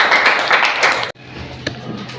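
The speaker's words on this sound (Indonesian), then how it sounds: "kita berikan tepuk tangan" A group in a room applauds with a brief burst of clapping that stops abruptly about halfway through, leaving a quiet room with a faint tap.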